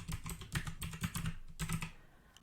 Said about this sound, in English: I'm typing printable.